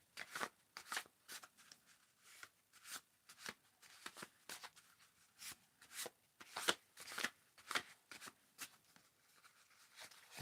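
Paper answer cards are shuffled in quick, crisp riffling bursts, close and fairly quiet, repeating in an irregular rhythm with short pauses between each pass and no talking.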